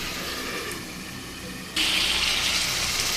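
Water pours in a loud, steady gush into a pot of hilsa fish curry to make broth, starting abruptly after a quieter cooking hiss and continuing to the end.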